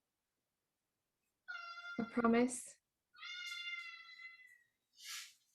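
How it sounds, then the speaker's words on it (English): A person voicing a cat meows and screams in high, harmonic wails, several drawn-out cries with short gaps between them, partly overlapping a brief spoken line. "running around as a cat, Screaming."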